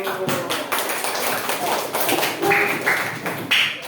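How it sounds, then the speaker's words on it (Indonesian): A classroom of students claps after group presentations during a teaching assessment session, brisk scattered hand claps forming a short burst of applause, close and fairly loud, with a few sharp accents near the end. "tepuk tangan dulu"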